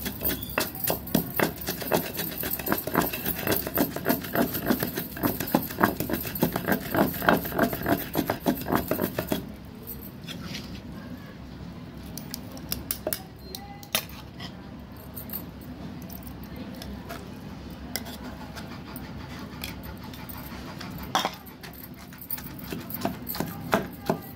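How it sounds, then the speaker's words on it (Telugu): Tamarind and rock salt pounded in a stone mortar for chutney, a dense run of gritty thumps and grinding that eases after the first half into sparser, quieter strikes with occasional clatter. "ఫస్ట్ చింతపండు వేసుకొని కళ్ళుప్పు వేసుకొని దంచుకోవాలి చక్కగా"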